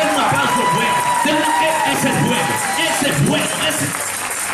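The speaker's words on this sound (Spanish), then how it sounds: "Denle un aplauso, pues" Church congregation breaking into loud, sustained applause mixed with cheering and shouting voices, a dense crowd roar that fills the whole stretch at steady volume.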